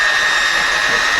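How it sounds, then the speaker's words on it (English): A power mixer churns skim coat for a pool on a house build site, giving a loud, steady motor whine that runs without a break. "There are the pool guys mixing up the skim coat there."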